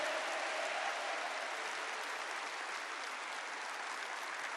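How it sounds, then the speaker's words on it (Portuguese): A large church congregation gives a long round of applause for Canção Nova, a steady, even roar of many hands clapping at a distance, unbroken throughout. "eu queria que você desse uma salva de palmas bem grande à Canção Nova"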